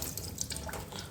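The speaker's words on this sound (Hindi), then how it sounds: "सो अब इस बर्तन में डाल देती हूँ मैं पानी" Tap water pours into a cooking pot being filled for soaking in a home kitchen, a steady splashing gush with bright droplet sounds and no talk.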